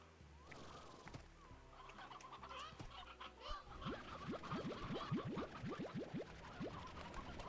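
Game chickens from Slime Rancher cluck in a busy overlapping chorus, with a run of sharp rising squawks packed together in the second half over steady background game sound; no talking.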